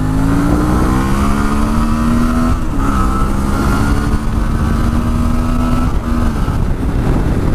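A 2018 Suzuki V-Strom 650 motorcycle accelerates hard to overtake a car, its engine note loud and close, rising through the revs with a brief gear-change dip before climbing again over steady wind rush.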